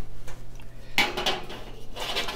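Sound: snickerdoodle baking tray being put into the oven

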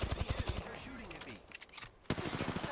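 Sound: gunfire from a video game (Apex Legends, Path)

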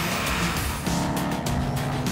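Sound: diesel truck with MagnaFlow exhaust, deep note

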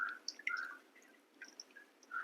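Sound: tamarind squeezed and poured into rasam

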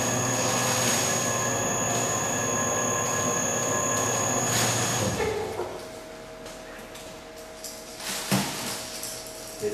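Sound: cold press oil expeller pressing golden flax

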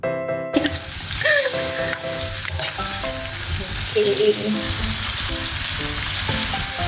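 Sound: sautéing in tomato for string bean adobo

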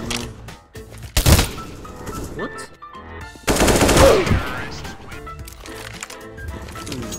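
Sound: shotgun fire in CSGO video game

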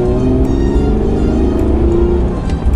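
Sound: Hyundai Genesis Coupe 3.8 engine and exhaust, stock

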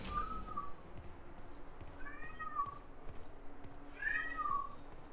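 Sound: cat meowing

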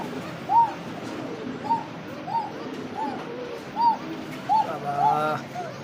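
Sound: village pigeons cooing

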